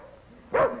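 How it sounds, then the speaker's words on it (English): One dog gives a single short bark, fairly close and clear, over a quiet background. "Not you, Bullet, just the other dogs"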